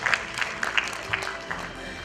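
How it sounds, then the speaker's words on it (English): Brief scattered applause from a youth summit audience in Istanbul, uneven claps close by that thin out toward the end. "Give applause for us"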